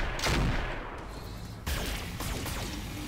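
Weapons firing in the video game Roguepoint, a volley of loud booming shots with a burst near the start and another about halfway through, each trailing into rumbling decay.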